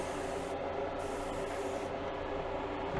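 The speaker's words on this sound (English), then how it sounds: "we're gonna hit it and spray it again. So we'll get another coat on there." A spray gun laying another coat of paint on a Buick, a steady hissing spray running continuously at moderate, even loudness with no talk.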